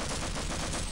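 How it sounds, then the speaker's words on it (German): Rapid gunfire from the video game Half-Life, a dense continuous burst of shots lasting about a second, loud and up close with no talk over it. "ich schieße die mal über"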